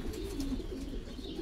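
A racing pigeon coos softly in a few low, rolling calls, close by, over a faint background hum.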